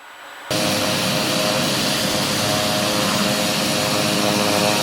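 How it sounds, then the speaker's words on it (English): A TBM 850 turboprop aircraft taxiing, starting abruptly with a loud, steady broadband engine and propeller roar that holds constant and close throughout, with no voices. "I'll just go ahead and taxi straight ahead, put on my flaps."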